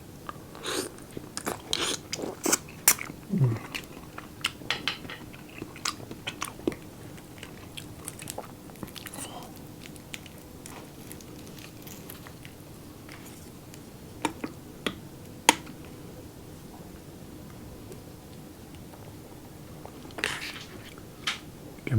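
Fresh oysters are eaten up close during a mukbang, with wet, crunchy chewing and biting sounds repeating irregularly, clearest in the first few seconds and fainter afterward, with no talking.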